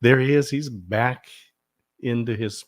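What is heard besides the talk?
No everyday noises stand out.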